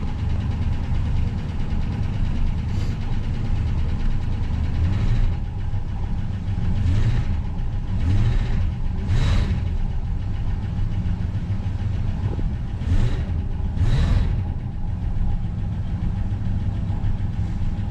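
A 1973 Dodge Dart Sport engine idles steadily after a gas tank replacement, a continuous close rumble with a few brief revs or surges rising and fading over it.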